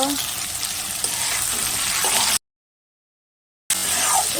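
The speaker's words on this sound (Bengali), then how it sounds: "পেঁয়াজ কুচিটাকে ভালো করে ভেজে নেবো বন্ধুরা একদম বাদামি কালার করে ভেজে নেব" Chopped onion frying in oil with cardamom, cinnamon and bay leaf, a strong close sizzle with occasional stirring scrapes, broken by a stretch of complete silence before the sizzling resumes.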